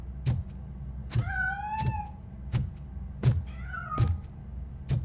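A cat meows repeatedly in the video game Robocop Rogue City, several drawn-out meows mixed with sharp thumping hits and a steady low ambient hum.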